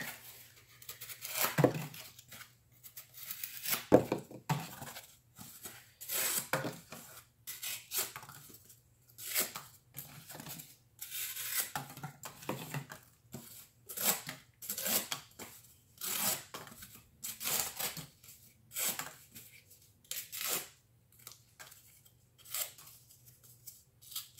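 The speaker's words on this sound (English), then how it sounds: "let's just cut up some of these little tiny cardboard scraps" A Kizer Lieb knife with an N690 steel blade slices small cardboard scraps in a long run of quick, crisp, close cuts spaced at irregular intervals.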